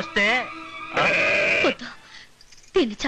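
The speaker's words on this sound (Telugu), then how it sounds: "ఒరే రాజు, కసాయి వాళ్ళు అక్కడి గొర్రెలు కోసేస్తున్నారా?" A sheep facing slaughter lets out three loud, close bleats, the middle one long and quavering, separated by short quiet gaps.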